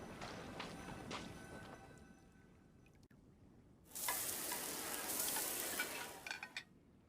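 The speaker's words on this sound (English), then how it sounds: "Let's head back to land and grill them." Fresh-caught fish grilling in the Genshin Impact video game: a soft crackling sizzle at first, then a louder bright hiss of frying that swells midway and holds before fading near the end.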